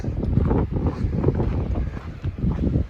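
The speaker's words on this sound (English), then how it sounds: "The wind. Ah, yes, the wind. Give me all the wind." Wind blowing on the Pacific Crest Trail in Northern California, a steady, gusting roar that buffets the microphone for the whole stretch with no other sounds.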